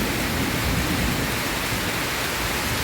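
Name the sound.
heavy rain starting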